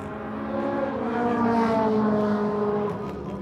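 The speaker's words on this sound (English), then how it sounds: "So the cars have started running." Toyota AE86 race cars run on track at Tsukuba Circuit, engines droning from a distance with a rising and falling tone as they pass, heard alone without talk.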